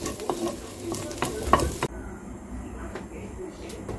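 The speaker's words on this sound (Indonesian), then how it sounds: "Ini aku goreng telurnya dulu ya." An egg frying in a sticky wok, with a steady low sizzle and some stirring clatter for the first couple of seconds, then a quieter, thinner sizzle that continues.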